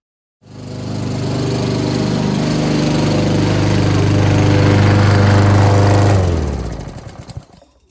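A lawn mower starts up and runs loud and close, holding a steady engine drone for several seconds before cutting off and winding down.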